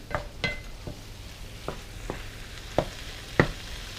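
Ground turkey with garlic powder, onion powder, salt and black pepper is mixed in a pan, with a soft sizzle under a series of irregular spoon scrapes and taps, close and without talk.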